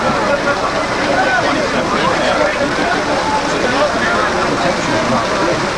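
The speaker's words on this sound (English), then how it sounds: "The rain is still as hard as it's ever been all night" Heavy rain pouring during a 1995 night football game between the North Stars and Ocean State, a dense steady hiss filling the air under distant crowd murmur.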